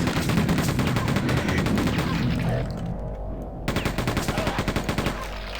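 Rapid bursts of automatic gunfire from the video game Quake II RTX, loud and rhythmic, drop out briefly midway and then return as repeated shots, with no talking.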